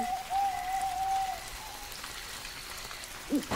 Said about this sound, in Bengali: বৃষ্টির গতি হঠাৎই বেড়ে গেল।